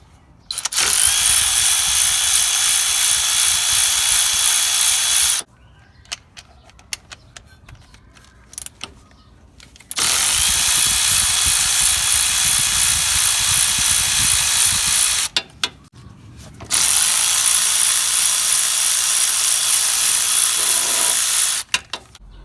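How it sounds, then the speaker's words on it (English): A power tool loosens the six drive shaft bolts on a Nissan Titan front differential during replacement, with three loud sustained whirring bursts of about five seconds each, separated by quieter stretches of clinking and handling noise. "What I'd like to do is just loosen all 6 bolts and take the shaft out of the way."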